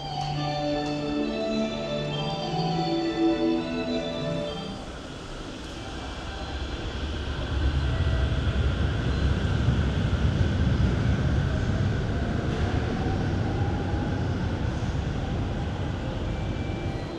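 Trains run on tracks at Ueno Station in Tokyo, where two sets of tracks are stacked one over the other. A chiming station melody gives way to a broad, steady low rumble of rolling trains that fills the rest of the clip.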